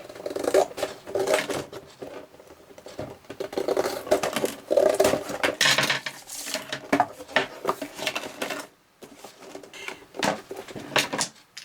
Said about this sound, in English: So with my scissors I'm just going to cut these off.